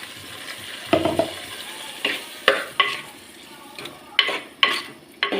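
Ground tomato puree is poured into hot oil and stirred for Tamil enna kathirikkai kulambu, with a crackling sizzle punctuated by repeated rhythmic spoon scrapes and taps against the pan, close and fairly loud with no talking.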